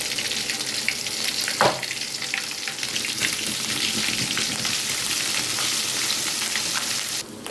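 Ground spice paste fries in a pan for a fish curry, a steady broadband hiss and crackle throughout with a brief louder splash near the start.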